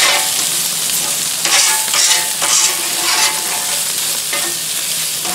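Bacon frying on a Blackstone griddle gives a loud, steady crackling sizzle that swells in a few bursts as the strips are spread out, with no voices.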